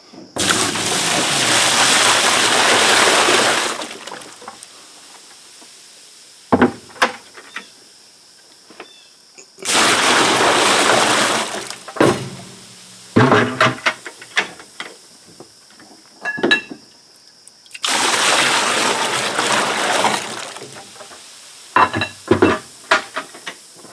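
Water pours and splashes into buckets being filled for a cast iron electrolysis tank, with three long loud pouring bursts separated by clanks and handling knocks of the buckets.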